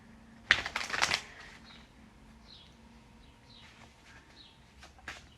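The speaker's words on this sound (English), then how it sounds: "Okay, so I'm going to just do a final shuffle to close off this reading." Cards are shuffled in a quick riffling burst close by, then the room goes quiet apart from faint chirps and a few soft taps.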